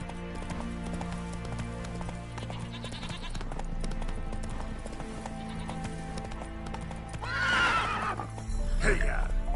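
Roach the horse in The Witcher gallops in a steady clip-clop rhythm, then gives a loud neigh near the end, set against game music and ambience.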